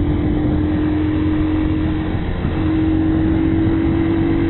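A Hero XPulse 200 FI motorcycle engine hums steadily while riding along a road in Colombia, probably in fifth gear, its even drone continuous and close throughout, with wind noise and no voices.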